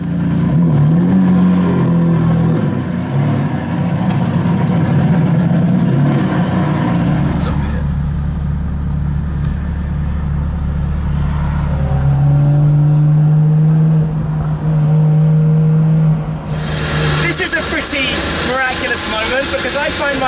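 A 2004 Maserati MC12 with a six-litre engine is driven out of a garage, a loud, close engine rumble with low idling, then revving and shifting tones, under steady speech throughout.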